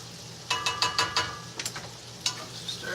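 Garlic sizzling in a pan of oil with jalapenos for peach bourbon baked beans, a steady close frying hiss broken by a quick series of sharp metallic clinks and scrapes from stirring, no voices.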